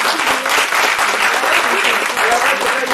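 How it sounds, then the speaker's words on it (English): An audience gives a round of applause after a talk on negotiations, dense, loud clapping that holds steady for several seconds. "Let's give her a round of applause"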